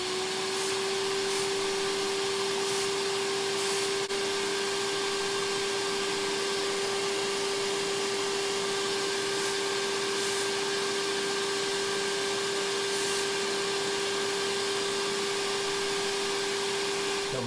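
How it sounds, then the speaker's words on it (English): A vacuum running on a sandblasting cabinet drones steadily and loudly throughout, a constant hum with a high whine, joined by a few faint hissing bursts near the start. "So I'm going to turn the vacuum on."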